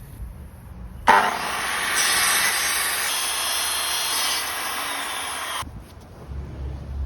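A power saw cuts through stacked wooden boards clamped under a flat guide board in a boat workshop: a loud, steady, high whine and rasp that starts abruptly, holds for about five seconds and stops sharply, with no speech.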